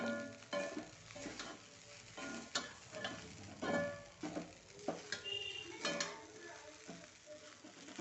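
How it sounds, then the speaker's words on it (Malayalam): Flattened-rice upma with grated coconut is stirred in a hot pan, a spoon scraping and knocking against the metal in irregular strokes over a soft sizzle, close and fairly quiet, with no talking. "ഒന്ന് ചൂടാകുന്നവരേക്കും ഒന്ന് ഇളക്കി കൊടുക്കുക"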